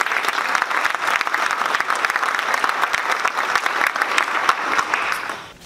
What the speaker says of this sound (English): that's certainly worth a round of applause for all of you.